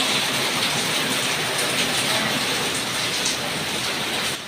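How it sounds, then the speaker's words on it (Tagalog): Heavy rain pours down steadily, a dense, continuous hiss of drops drumming on surfaces with no pauses. "Lakas ng ulan, grabe."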